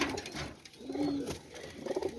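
Soft, low cooing murmurs from Teddy pigeons in a short sequence, fairly close, with faint background noise and no talking.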